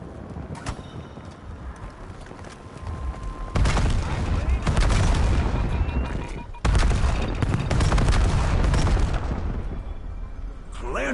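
In a video game, a turret opens fire with rapid, dense bursts of shots and heavy booms that roll on continuously, loud and close, with a brief break before the barrage resumes; a voice talks faintly underneath.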